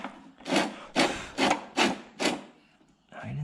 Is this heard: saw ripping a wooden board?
yes